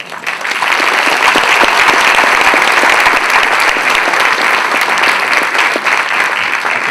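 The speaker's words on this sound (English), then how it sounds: "I want to give the grown-ups who were involved a big round of applause" A loud, sustained round of applause from a Grandparent Day school audience, many hands clapping steadily from start to finish with a brief swell at the onset.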